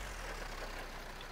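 A forklift engine in the video game ForkDrift turns over and settles into a steady, low idling rumble with a broad hiss, holding an even level throughout.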